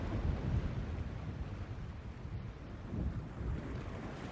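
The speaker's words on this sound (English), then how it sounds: "Is it my imagination or is the storm getting closer?" Storm wind roars steadily around a sailing boat at sea in The Longest Journey, a dense rushing noise with low rumbling surges and waves, fairly quiet and continuous with no voices.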